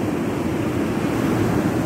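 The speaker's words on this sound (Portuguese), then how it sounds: "O mar enrola na areia" Rough, dangerous surf rolls onto a sandy beach, a loud, steady roar of breaking waves with wind rumble and no pause.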